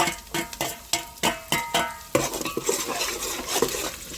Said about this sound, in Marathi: आता कांदा भाजलेला आहे, तसं आपण कढीपत्ता आणि 4 लवंग टाकू